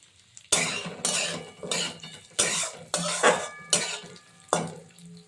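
Gobindobhog rice being stirred in a metal pan for payesh: a series of about seven scraping, rattling strokes at a loose, steady rhythm, close and clear, with a faint sizzle between.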